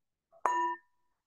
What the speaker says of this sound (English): with the fading of the sound of the bell, it's the invitation to let go of this process of arriving